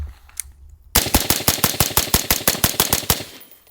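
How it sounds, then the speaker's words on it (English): Rapid mag dump from a suppressed rifle, an AR-style gun: after a quiet opening, roughly fifteen evenly spaced, loud shots crack in quick succession for about two and a half seconds, then stop. "Let's go ahead and mag dump it with the suppressor"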